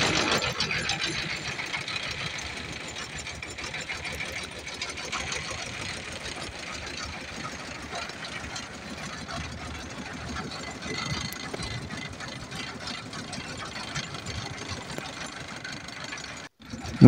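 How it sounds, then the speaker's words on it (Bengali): A ferry boat's engine idles steadily on the Turag River, a continuous mechanical chugging that holds at an even level before cutting off abruptly near the end. "আর ড্রাইভার সাহেব ইঞ্জিন চালু দিল"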